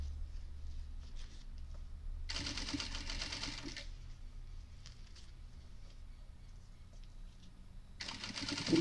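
A sewing machine stitches a tote bag seam in two steady, fast bursts separated by a quieter pause, with the motor whirring close and clear and a third run starting at the end.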